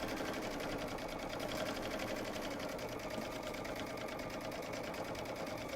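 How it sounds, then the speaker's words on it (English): A sewing machine runs at full speed while stitching a travel pillow, giving a steady, rapid, even mechanical whirr that continues without pause at close range. "I can turn it all the way up because I've got lots of practice, and sew really fast."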